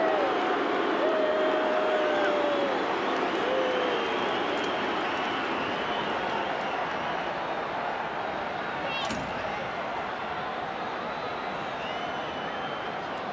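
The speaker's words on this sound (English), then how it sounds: "The crowd more than upset with the decision." A stadium crowd at a 1991 Winfield Cup rugby league major semi-final between Penrith and North Sydney roars steadily in displeasure at a penalty call, loud and sustained, with commentary talk over it.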